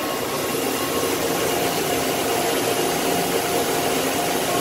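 A Makino A88 machining center spindle running at 3000 RPM gives a steady, loud broadband whir and hum that holds even and unbroken throughout.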